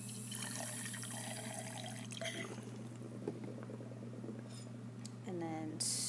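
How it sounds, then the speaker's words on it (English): Distilled water poured into a glass test tube in a chemistry lab, a faint trickling pour over a steady electrical hum, ending with a brief rising gurgle as the tube fills. "I'm going to dissolve it with some distilled water."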